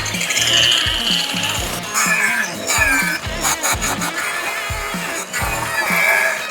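A 180-grit abrasive brush drum sanding a DIY fan shroud for a rear-mounted radiator, giving loud, rough rubbing strokes that surge and fade in a back-and-forth rhythm, close up, with no voices.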